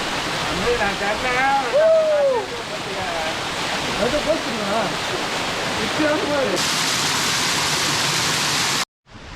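Kiliyur waterfall at Yercaud roars as a steady broadband rush of falling water throughout, with voices talking over it for most of the stretch.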